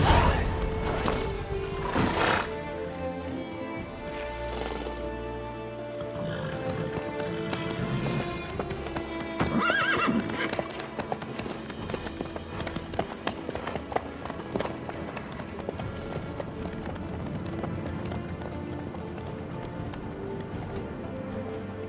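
Horse hooves clip-clop at a steady running pace in The Witcher 3 video game, continuous and fairly close under game music and ambience, with a brief voice near the start.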